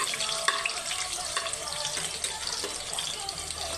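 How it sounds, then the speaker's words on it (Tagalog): Garlic dropped into hot oil in a pan, a steady dense sizzle and crackle from start to finish with faint stirring noises, close and fairly loud. "dahil mainit na po ang mantika, pwede na po ilagay ang bawang"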